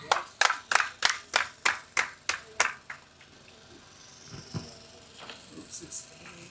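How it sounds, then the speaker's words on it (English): Audience applause at a menopause foundation event: a burst of about ten loud, regular claps that fades after three seconds into scattered, softer claps and murmuring voices. "Round of applause for that."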